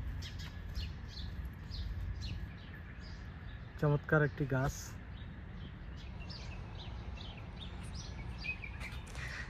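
Birds call in a quiet, green park with children's play equipment in King Fahad Park, Shaqra, Saudi Arabia: a short, loud burst of squawking chirps rises over steady background ambience while someone talks throughout.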